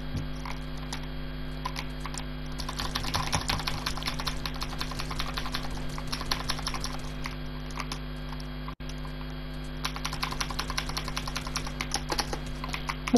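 Computer keyboard keys clatter in rapid, dense bursts during a game, loud and close over a steady electrical hum, with one brief pause before the typing resumes.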